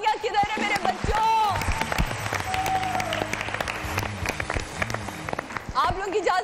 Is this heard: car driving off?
no